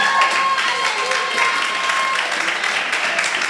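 Church congregation applauding and acclaiming the Lord during a sermon, a steady, dense wash of clapping and crowd noise that holds at even loudness throughout, with a faint sustained tone running beneath for the first two seconds.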